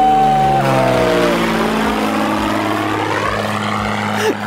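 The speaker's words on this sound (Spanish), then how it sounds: "Ahí va nuestra avioneta que ya se va." A small propeller plane climbs away in a remote Canadian setting, its engine drone loud and steady with a falling pitch as it departs, and no talk over it.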